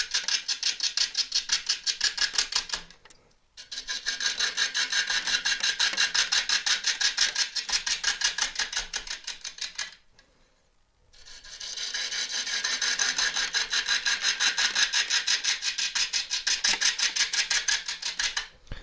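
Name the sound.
half-inch gouge cutting elm burr on wood lathe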